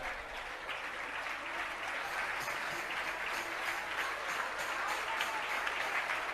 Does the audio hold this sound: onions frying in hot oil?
no